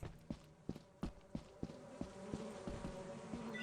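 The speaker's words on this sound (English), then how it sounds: "Bees!" Bees buzz steadily in the video game Lethal Company, a close, droning hum running under a series of regular, thudding footsteps that sharpen into a faster patter toward the end.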